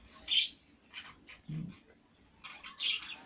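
Pet budgerigars chirping in short, bright bursts, a few quick calls spaced through the moment with one lower squawk in the middle, close and fairly quiet with no talking.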